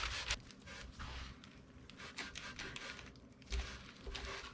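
Excess filler is wiped by hand off a cheap ES-335-style guitar body, a faint close rubbing and scraping in uneven strokes, no talk.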